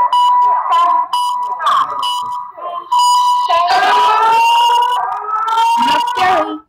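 Chinese emergency alert system alarm blaring loud and close: a sustained, harsh, siren-like tone that holds steady, breaks off briefly, then resumes and warbles before cutting out.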